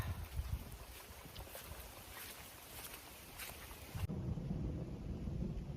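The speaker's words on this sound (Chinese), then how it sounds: "又要打雷了" Heavy rain pours steadily outdoors during a storm while low rumbling swells underneath, suggesting thunder, with a louder broadband wash from about four seconds on.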